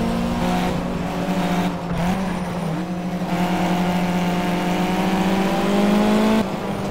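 A car races along a busy highway in the Project CARS video game, its engine droning loudly and steadily as it shifts pitch through gear changes for several seconds, with no talk over it.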